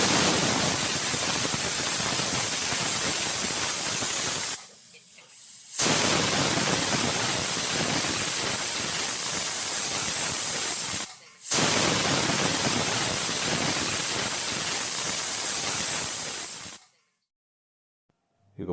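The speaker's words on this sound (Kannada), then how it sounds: "ಕುಕ್ಕರ್ ಲಿಡ್ಡನ್ನು ಕ್ಲೋಸ್ ಮಾಡಿ 3 ವಿಷಲ್ ನಾವು ಬೇಯಿಸ್ಕೋಬೇಕಾಗತ್ತೆ" A pressure cooker lets off steam while cooking fenugreek dal. The loud, sustained hiss breaks off twice briefly, then stops and leaves silence.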